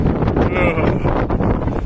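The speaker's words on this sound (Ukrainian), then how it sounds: "тут такий вітер холодрига" Cold wind buffeting the microphone outdoors, gusty low rumbling blasts that rise and fall in quick surges, close and loud with faint rustling underneath.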